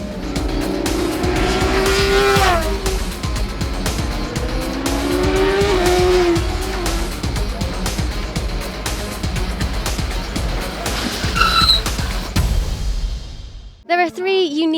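Triumph motorcycles lapping a race track during a track-day testing session, engines roaring loudly and sweeping up and down in pitch as bikes pass, with a brief quiet break before the noise resumes at the end.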